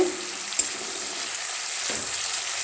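A fish head fries in fish oil with a pinch of turmeric, a steady close hiss and sizzle with a couple of small knocks, no voices.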